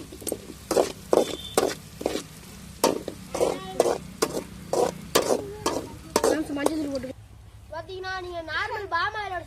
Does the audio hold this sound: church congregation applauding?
no